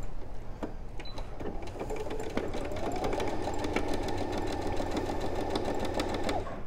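A sewing machine stitches a line on quilting fabric with a steady, fast mechanical whir and needle chatter that holds at an even level for several seconds before stopping.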